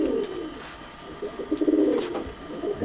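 A short-tailed pigeon of Tapan Saha bloodline gives a couple of close, low coos over a faint background hum.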